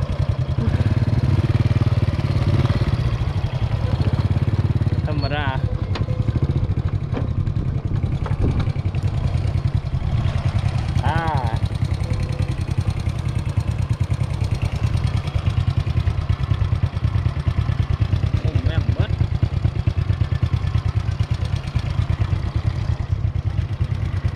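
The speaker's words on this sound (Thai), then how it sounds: "ตอนนี้กำลังขี่รถกลับ" A motorcycle engine drones steadily up close with rattling clatter, riding back along a rough track through sugarcane fields in Laos, with only a few faint voice traces.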